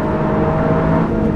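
Toyota Yaris GR Tracktool, a modified city car, running on the Nürburgring with a loud, steady engine drone and whir, close and continuous for a short moment.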